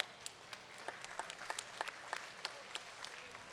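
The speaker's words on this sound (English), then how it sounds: "Let's give a round of applause for our sponsors." Scattered, faint audience clapping for sponsors at a junior livestock market steer show, a thin patter of individual claps rather than a full ovation.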